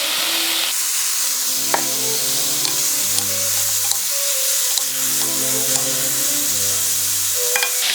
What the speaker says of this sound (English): I'm adding my bean sprouts now, my soybean sprout